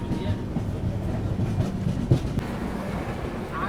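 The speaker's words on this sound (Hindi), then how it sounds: "ट्रेन बढ़िया स्पीड में चल रही हो" Garib Rath Express train running at speed, with a steady loud low rumble and rolling wheel noise throughout, a faint clickety-clack underneath and a brief knock near the middle.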